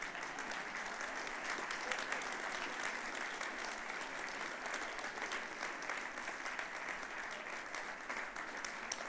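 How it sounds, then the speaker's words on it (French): A church congregation claps together in sustained, even applause, a dense crackle of many hands that holds at steady strength for several seconds with no voices rising above it. "Vous pouvez les applaudir,"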